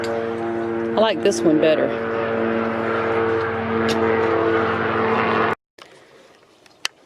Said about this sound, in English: Oh, got a plane coming over.